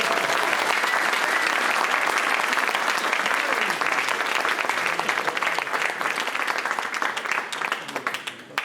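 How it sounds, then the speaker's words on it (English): A crowd at a grand opening of an orthodontics school clinic applauds, with loud sustained clapping that continues steadily for several seconds before slowly thinning out. "Let's have a round of applause."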